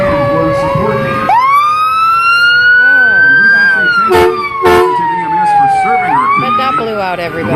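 An ambulance siren from Hoisington EMS in a Labor Day parade wails loudly and up close, rising and falling with a horn-like blast, while crowd noise and voices carry underneath.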